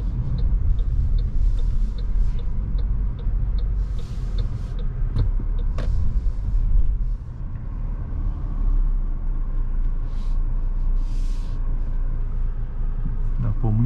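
A 2021 Ford Territory Titanium driving on a city road, heard from inside the cabin as a steady low engine and road rumble throughout, with occasional faint clicks and brief outside sounds.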